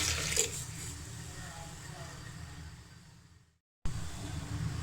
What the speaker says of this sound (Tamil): அரிசி கலைஞ்ச தண்ணி ஒரு டம்ளர் எடுத்து வச்சுருக்கேன் இல்லையா அதையும் ஊற்றிடலேன்